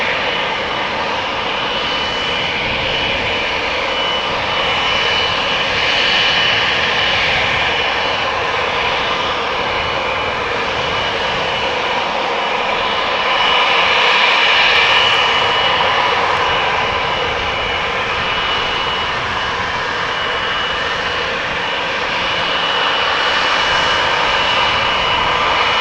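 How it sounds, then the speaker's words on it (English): A jet airliner takes off on a runway at Amsterdam Schiphol Airport, its engines a loud, steady, broad roar that swells slightly midway and holds for the whole stretch, with no voices. "There's a line cutter to the left, which is taking off further down the runway"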